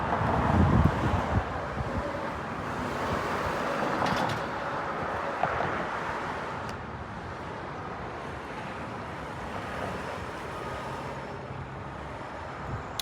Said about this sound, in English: I hope that you can hear me with all these cars going by